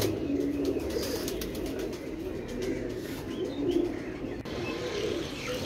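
Low cooing from a flock of pigeons during rain rolls on continuously and close by, with a few higher chirps and soft clicks mixed in.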